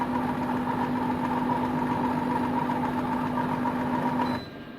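Compact Cook Elite food processor running at speed 3 with no heat, a steady loud mechanical hum and whir that holds evenly before dropping away as the motor is stopped.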